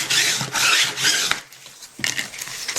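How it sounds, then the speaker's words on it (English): A credit card rubs scrapbook paper flat onto a handmade card in several close, raspy strokes. The scraping comes in bursts, pauses briefly, then resumes. "And just burnish that down. Take my credit card"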